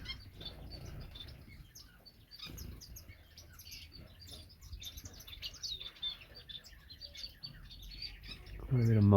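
Gouldian finches and star finches chirping in a bird shed, many small overlapping tweets and calls at moderate distance, with someone talking at points and a brief louder rustle at the end.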